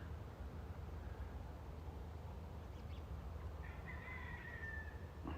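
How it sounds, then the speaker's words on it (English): A rooster crows a few times in the distance as storms roll in, its drawn-out call rising over a steady bed of background noise. "The roosters are at it."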